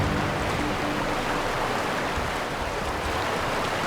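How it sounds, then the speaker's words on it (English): Steady broadband rush of a waterfall in the game The Outer Worlds, Fallbrook area, a continuous close wash of falling water with no pauses or talk. "Here we are at the waterfall."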